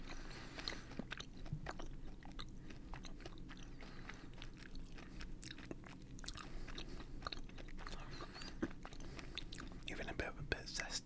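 Skittles candy being chewed close to the mic in a quiet ASMR setting, soft crunchy mouth sounds and biting throughout, with occasional soft whispering speech over them.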